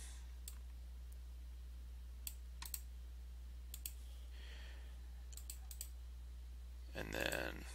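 Sparse computer keyboard clicks and a few keystrokes, including a press of the enter key, during setup in an Ubuntu terminal, with brief isolated taps spread across a quiet stretch and a short louder burst near the end.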